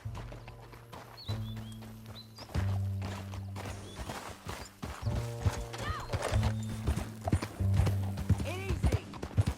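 Horse hooves in Red Dead Redemption 2, an irregular clip-clop over rough ground with a few snorts and whinnies, set against a sustained low musical score and game effects.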